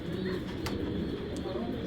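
Soft cooing of silver racer pigeons in a loft, low and murmuring, continuous beneath steady background noise with brief faint chirps.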